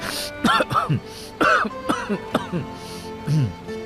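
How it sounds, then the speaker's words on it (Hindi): A string of throaty coughs and throat-clearing bursts, close and fairly loud, arriving in irregular clusters with short pauses between them. "खांसी बढ़ गई है।"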